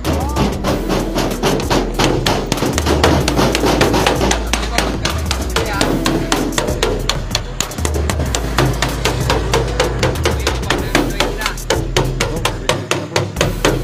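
Repeated sharp knocks at a pigeon racing release, coming in a fast, fairly regular series of loud, close taps over a steady low rumble, with some voices in the background.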